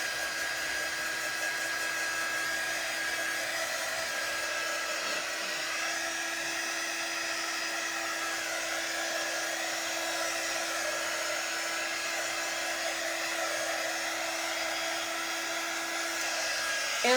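A hair dryer blows steadily on a pumpkin pie apron transfer, a constant close whooshing hum with a faint whine, running alone for the whole stretch.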